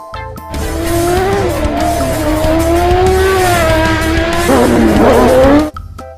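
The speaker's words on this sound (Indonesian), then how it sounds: "Motor balap." A race car engine roars loud and close, its pitch climbing steadily through the gears, then cutting off abruptly near the end.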